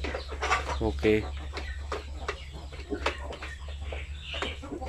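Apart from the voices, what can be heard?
pure Sampin chickens clucking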